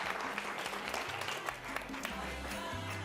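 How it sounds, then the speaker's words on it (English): A crowd at a salsa-making showdown applauds the salsa makers: dense, steady clapping from many hands throughout, fairly loud, with a voice heard over it. "let's give one more round of applause to our salsa makers as well"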